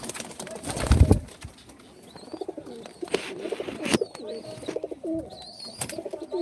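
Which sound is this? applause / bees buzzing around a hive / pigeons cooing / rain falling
pigeons cooing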